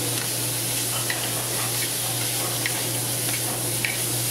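Beef tips searing in a pan for beef tips Marsala, a steady loud sizzle with occasional small pops and crackles, no voices.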